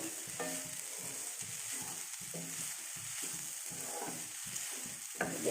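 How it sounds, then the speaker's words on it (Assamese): Coconut roasts in a pan for coconut and jaggery laddu, with soft rhythmic scraping strokes repeating about twice a second over a faint, even hiss, quiet and close, without any voices. "এতিয়া নাৰিকলখিনি ভাজি ল'ম অকণমান মই"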